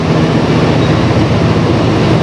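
The Shalimar Express passenger train rumbles loudly and steadily, heard from close by as a constant roar of wheels and carriages with no talking.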